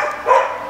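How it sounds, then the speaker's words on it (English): A single dog bark sounds in the background, brief and moderately loud, rising and fading within a moment with no talk over it. "Excuse the dog here."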